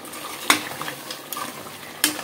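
Chicken mango curry stirred in a frying pan, with a spoon scraping the pan in a few sharp strokes over a steady sizzle, close and fairly loud, no voices.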